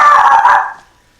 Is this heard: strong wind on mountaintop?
no